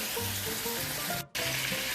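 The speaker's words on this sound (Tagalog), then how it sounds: "piprituhin ko muna ng bahagya lang yung ating chicken" Chicken pieces seasoned with salt sizzle steadily in a hot pan for a light pre-fry before going into tinola, a continuous close frying crackle with a brief dropout near the middle and no talking.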